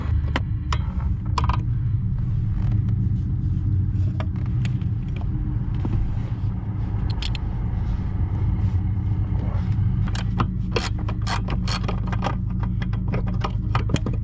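Bolts being worked loose by hand tools during teardown of an old Acura TL engine, with sharp metallic clicks and clanks scattered over a steady low rumble of background noise, close and fairly loud throughout.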